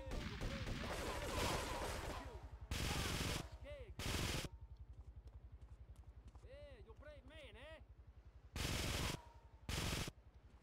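Bursts of gunfire in Grand Theft Auto 3 come as several loud, dense volleys, short and spaced apart, under excited talk and game sounds.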